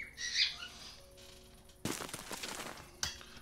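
Pet parrots indoors at night let out a shrill squawk close by, then scuffle and rustle with a couple of quieter bursts afterward.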